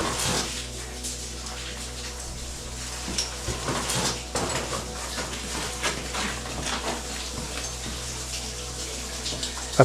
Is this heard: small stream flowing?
yes